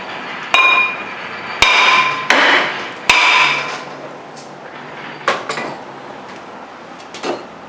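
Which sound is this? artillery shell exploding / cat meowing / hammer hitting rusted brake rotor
hammer hitting rusted brake rotor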